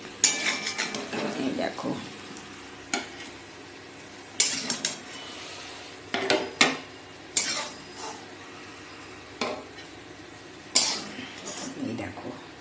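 Fried cabbage, coriander and green chilli fritters are lifted from a frying pan onto a plate, with scattered sharp clinks and scrapes of a utensil over a faint sizzle while someone talks.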